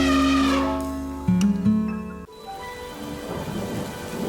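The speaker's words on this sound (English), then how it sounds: "Peppa and George ran outside to play as the rain started." Cartoon thunderstorm in a Peppa Pig animation: a loud, rolling crack of thunder gives way to a steady patter of rain on surfaces, with no voices.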